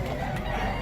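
Chickens clucking close by on a small farm, a steady busy murmur of fowl sounds with faint background noise throughout.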